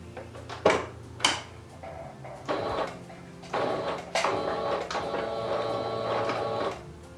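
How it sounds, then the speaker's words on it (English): A sewing machine stitches along the folded edge of a flannel plaid cloth napkin in several short mechanical runs with brief stops and a few clicks between them, close by. "we're just going to start sewing along this folded edge on the inside"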